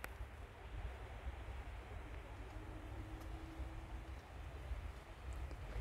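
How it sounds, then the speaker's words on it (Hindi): Wah-Kaba waterfall in Sohra, Meghalaya, heard from a distance as a steady, broad rushing roar with a faint hum, continuous and moderately quiet throughout. "if my mic is able to catch the sound of waterfall"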